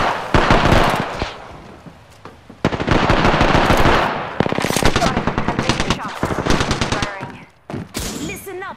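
Rapid automatic gunfire in an Apex Legends match, loud, close bursts with short pauses between volleys, broken up by game sounds and a player's voice.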